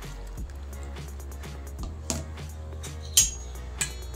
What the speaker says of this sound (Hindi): और इसमें 1/2 कप पानी ऐड करेंगे।